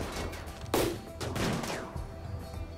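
Gunfire in RimWorld comes as sharp bursts of shots at about 0.7 s and 1.2–1.5 s, with smaller cracks trailing off over a low steady background.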